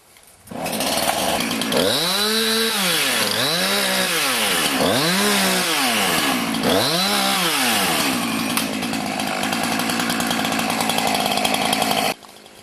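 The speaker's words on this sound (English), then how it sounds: "If you're going to be coming out with a chainsaw, cutting big buckthorn" A chainsaw runs loud and close, revving in four rising-and-falling surges as it bites through buckthorn wood, then idles on steadily until cutting off abruptly.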